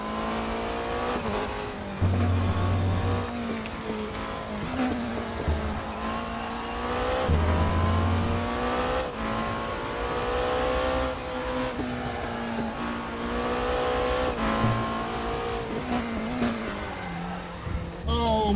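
A race car in the RaceRoom sim racing game has its engine roaring and revving through a spin-out, with tire noise shifting across the slide. Someone talks over it throughout.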